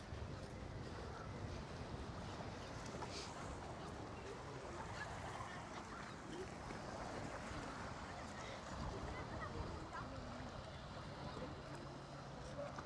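A breeze blows across the beach at Palmanova with boats moored in the bay, producing continuous rumbling wind buffeting with a wash of surf, loud and steady throughout.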